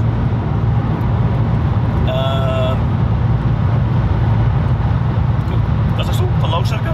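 Steady low rumble of tyre and road noise inside a Toyota Supra driving on a wet road, constant and loud throughout, with a brief tonal whine partway through and light high-pitched sounds near the end.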